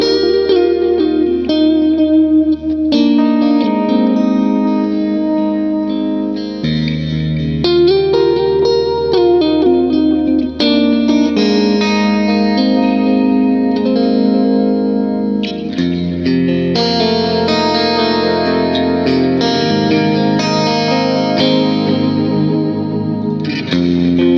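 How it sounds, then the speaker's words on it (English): Electric guitar through effects with heavy reverb, a dreamy ambient tone of sustained chords and notes washing into long echoing tails, played continuously and loud for the whole stretch with no voices. "put on our reverb. You know, last but not least, a little reverb."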